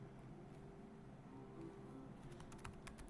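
Fingers typing on a computer keyboard filling in a form, quiet clicking keystrokes coming in a quick cluster near the end over a low steady hum.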